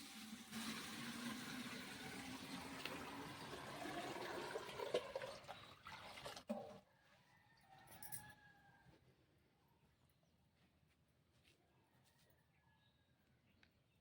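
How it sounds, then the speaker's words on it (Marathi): Water splashes and patters onto the ground for several seconds, then stops, leaving faint drips and quiet surroundings. "असं पाणी शिपडलं जातं"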